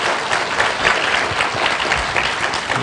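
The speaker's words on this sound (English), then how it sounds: "this is the first time I got an applause after saying nothing" Audience applause at a book launch event, a short, continuous wash of clapping from a crowd, fairly loud and even throughout with no talking over it.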